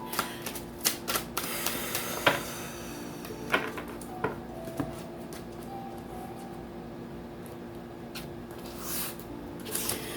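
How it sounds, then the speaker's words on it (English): Tarot cards being shuffled and cut during a reading, a run of crisp close clicks and riffling snaps at an uneven pace with some louder knocks, no talk over it. "You just take these cards for me, and you just cut them"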